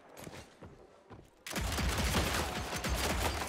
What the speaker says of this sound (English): we're just firing off lead on each other